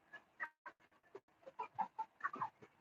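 Chickens clucking beneath a steel-roofed shelter, a series of short, fairly close calls and squawks that come in irregular bursts and grow busier toward the end, with no talking over them.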